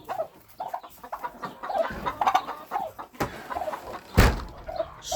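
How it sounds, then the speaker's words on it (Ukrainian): A hen clucks repeatedly in short, close bursts, with a sharper squawk near the end; a faint voice or rustle sits in the background. "Курка он не сподобалося курці, а це спів її."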